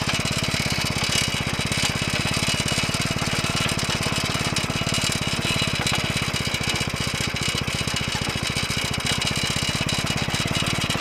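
A bike engine fitted to a homemade cultivator runs continuously at a steady, loud, buzzing idle-like pace, close by with no pauses throughout.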